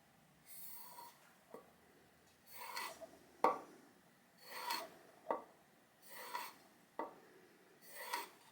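A hand tool blade is sharpened freehand on a stone, with about seven rhythmic scraping rasps, each stroke clearly separated and close by, and no talking.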